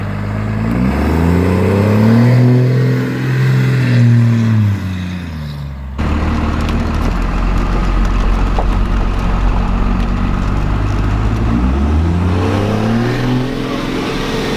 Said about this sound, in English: taking it for our first test drive since we put the injectors, the turbo, and all the pusher intercool stuff on there